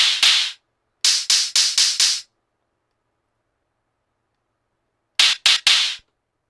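Crisp, bright hissing synthesized open hi-hat hits, a couple then a quick run of four, a long silence, then three more, close and dry.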